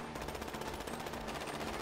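Rapid automatic gunfire crackles in the video game GTA V during an online heist, a dense, fast burst of shots at moderate loudness with no talk over it.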